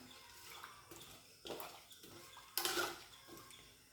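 Water sloshes and swirls faintly in a pot as salt is mixed into it with tapioca in a Kerala kitchen, a few soft splashy surges in short bursts.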